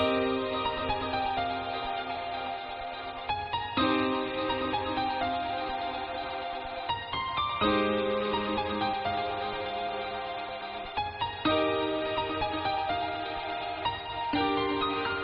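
A synth pad top-line melody built in FL Studio for nostalgic lo-fi house plays over sustained chords, shifting every few seconds in a slow, steady progression, alone without talk.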